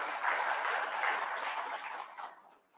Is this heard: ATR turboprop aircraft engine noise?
no